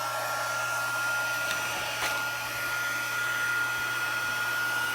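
Heat embossing tool blowing hot air while warming up before being aimed at embossing powder, a steady loud whooshing hiss with a constant motor hum, close and uninterrupted with no speech.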